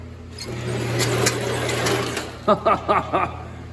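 Starter motor cranking the engine of a 1946 Chevy truck, a steady whirring grind for about two seconds followed by several quick, loud chugging turns close by.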